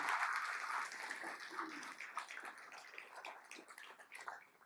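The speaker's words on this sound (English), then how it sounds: "So a quick round of applause for all of our sponsors." Brief round of audience applause at a State of the Region event, fairly faint clapping that starts fuller and thins into scattered claps as it fades.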